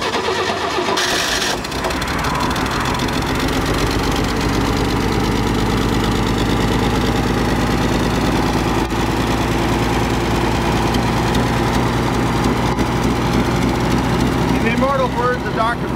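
A 1969 Chevrolet Camaro engine, parked outside for ten years, idling loudly and steadily after a cold start, with voices talking faintly over the rumble.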